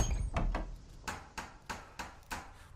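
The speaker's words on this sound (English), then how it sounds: "Whence is that knocking?" Knocking on a door in a 2022 stage production of Macbeth: about seven loud, hollow knocks in an uneven rhythm, alone with no voices.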